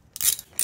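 A ratchet tightens a bolt on a coil adapter for a Vortec 4200 engine, giving two short, close clicking bursts.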